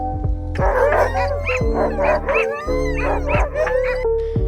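Sled huskies bark, yip and whimper in an excited chorus, several dogs close by calling over one another with howling cries throughout.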